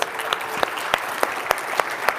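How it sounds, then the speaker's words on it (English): A crowd applauds panelists after a tech workforce report panel discussion, steady clapping with sharp individual claps popping out at a regular beat, moderately loud and without voices. "Another round of applause for the panelists"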